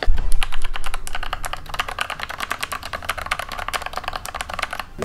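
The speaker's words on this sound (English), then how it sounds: "with Gateron G Pro red switches that is very satisfying to type on" Fast, continuous typing on a YZ75 mechanical keyboard fitted with Gateron G Pro red switches, close-up clacky keystrokes in a rapid, irregular rhythm with no voices.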